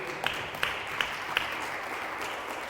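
A church congregation claps through a Spanish-language sermon with steady, moderate applause and a few sharper individual claps standing out, fading slightly toward the end.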